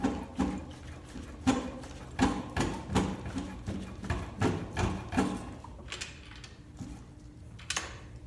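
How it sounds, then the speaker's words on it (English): A water-logged, seized Yamaha TTR 125 dirt bike is kick-started over and over, giving about a dozen faint, dull clunks in a steady rhythm that thin out and grow quieter toward the end. "We're gonna see if the Kickstarter will kick it over, not get too aggressive"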